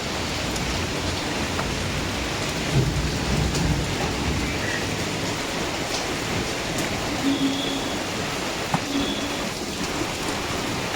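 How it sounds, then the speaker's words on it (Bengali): Continuous heavy rain pours down outdoors as a loud, unbroken roar of drops, with a few slightly louder surges and no voices. "কন্টিনিউ বৃষ্টি পড়ে যাচ্ছে।"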